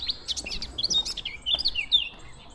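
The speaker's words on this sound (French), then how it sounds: "Attendez les oiseaux" Small birds chirping in a château park, several quick high tweets and short trills in irregular bursts over quiet background, fairly close, with no talking.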